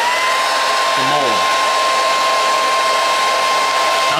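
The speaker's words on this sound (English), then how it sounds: "I'm gonna take a hairdryer and just kind of heat up" Hair dryer blowing hot air onto a resin casting mold: a steady, loud, close whooshing roar with a constant high whine, running unbroken throughout.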